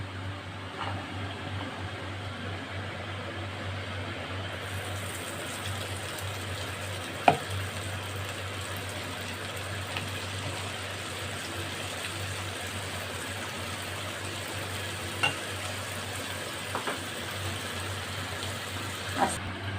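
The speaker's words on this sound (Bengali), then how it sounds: "মালগুলো দেখুন আমার একটা একটা করে সব ভাজা হয়ে গেছে।" Malpua pancakes fry in hot oil for a Holi recipe, giving a steady, even sizzle throughout with occasional faint clicks and no voices.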